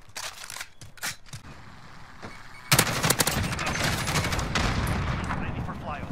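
Kilo 141 assault rifle fire in a shooter game: a few sharp isolated shots early, then a sudden dense stretch of rapid automatic gunfire with crackling impacts continuing to the end.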